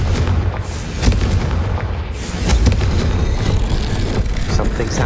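Booming spell blasts and explosions from the Hogwarts Legacy video game, loud heavy bursts with rumbling impacts and debris across several seconds of continuous battle noise.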